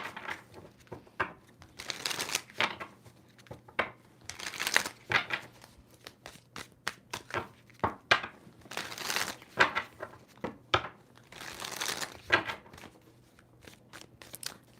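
Tarot cards being shuffled by hand in repeated bursts, each a brisk papery riffle or slide, close and fairly quiet with short pauses between shuffles.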